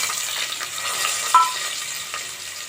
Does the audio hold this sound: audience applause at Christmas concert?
no